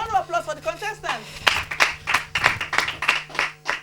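An audience claps for contestants at the close of the final stage of a competition show, a short burst of rhythmic clapping that follows a voice and continues on its own for a few seconds.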